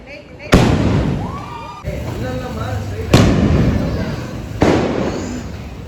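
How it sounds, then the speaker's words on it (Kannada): Diwali firecrackers burst outdoors during a family celebration, three loud sharp explosions spaced a second or so apart, each ringing out and decaying while people talk and shout around them. "ನಮ್ಮಿಬ್ರು ಬಾವಂದಿರು ಪಟಾಕಿ ಹೊಡಿತಾ ಇದಾರೆ"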